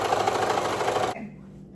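A sewing machine stitches a dress seam in a rapid, even mechanical chatter that runs for about a second and then stops abruptly, leaving a faint hum.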